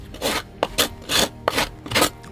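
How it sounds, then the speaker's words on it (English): Five rhythmic rasping strokes of sandpaper rubbing across a simple wooden toy by hand, close up, each a short scratchy burst separated by brief pauses. "now I'm sanding everything down"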